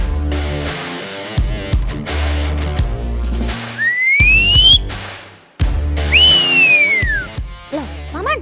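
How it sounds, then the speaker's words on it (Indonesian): A person whistles a special call in two rising-then-falling sliding tones, set against lively background music with bouncy, plucked notes. "Ini kok malah bersiul sih?"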